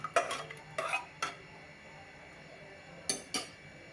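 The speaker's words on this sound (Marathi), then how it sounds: "आता एकदा हे सर्व छान मिक्स करून घेऊया" A spoon scrapes and clinks against a pot of moong dal in a few short bursts, then pauses before two more quick strokes near the end.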